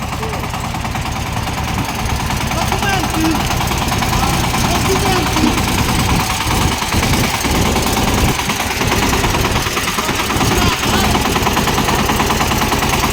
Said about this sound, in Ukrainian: Тестуємо Суфена 350-го, незважаючи на відхідний